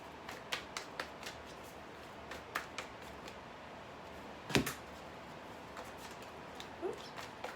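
Tarot cards being shuffled, soft scattered riffling and tapping clicks in an irregular rhythm, with one sharper snap midway, faint and close.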